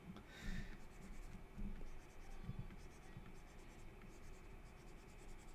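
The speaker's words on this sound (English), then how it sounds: "You're essentially drawing two" Pencil drawing squares on paper: quiet, close scratchy strokes with short pauses between lines, faint and steady in a calm room.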